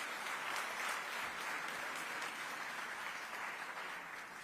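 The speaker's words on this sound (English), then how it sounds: "Round of applause for our VVIPs" Conference attendees at a tech summit give a faint, distant round of steady applause that fades slightly toward the end.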